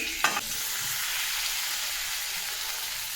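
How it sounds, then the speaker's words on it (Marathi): Sliced alu vadi, colocasia leaf rolls, shallow-fry in a pan with a broad, continuous hiss of sizzling oil after one brief clatter at the start, close and steady, with nobody speaking. "आता मी आळूवड्या परतून घेते"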